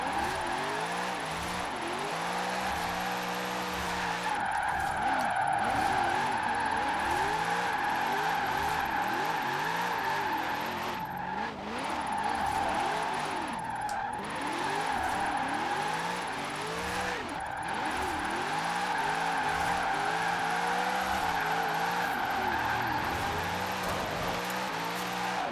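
Chevrolet Corvette C8 on race tires drifting in Forza Horizon, a sustained engine drone with long, wavering tire squeals sweeping up and down, loud and continuous with no talking.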